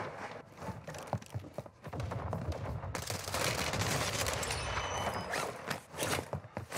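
Dense, rapid gunfire from a video-game shooter, loud and continuous bursts with no speech.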